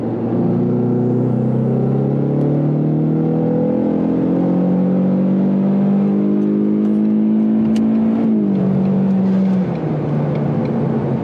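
Tuned Ford car under full throttle, engine droning and climbing steadily for several seconds, then dropping sharply at an upshift before pulling again, loud and close with no talking.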